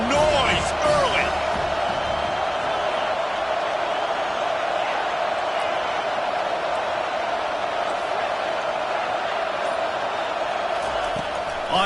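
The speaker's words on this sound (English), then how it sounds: "This crowd bringing the energy and noise early." A college football stadium crowd at a Syracuse versus Miami NCAA game roars continuously, a dense, loud wash of crowd noise filling the whole stretch with no break.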